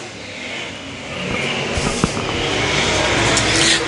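A-modified race car on a dirt oval, the engine roaring loudly and continuously as it races past, with a broad rough rumble and a rising surge near the end.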